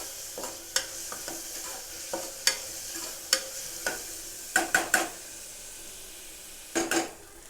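Onion frying soft in an open pressure cooker, a low, steady sizzle punctuated by a dozen or so sharp clinks and scrapes of a spoon stirring against the metal pot, some in quick pairs.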